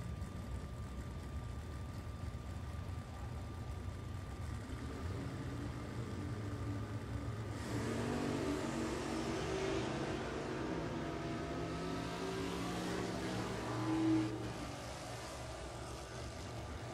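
Drag racing cars, including a Firebird and a Mustang, accelerating down the strip at a funny car event, a faint distant engine drone that swells midway into a broader roar and then trails off.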